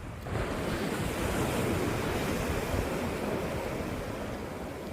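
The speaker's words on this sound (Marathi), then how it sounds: "लाटा येतात जातात" Continuous roar of sea waves breaking and washing in, with wind buffeting the microphone; steady and fairly loud, no voices.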